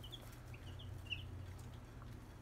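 Polish hens on a homestead cluck softly in short, scattered calls, faint and close against a low background hum.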